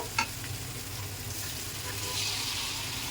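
A splash of water poured over dried fish frying with spices in a pan sets off a steady, moderate hissing sizzle that runs evenly throughout, with no voices.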